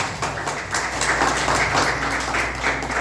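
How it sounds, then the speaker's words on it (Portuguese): Church congregation clapping hands during a worship service, a brisk, fairly loud patter of many hands with faint low hum beneath and no speech over it. "Bem forte as palmas para o Senhor Jesus."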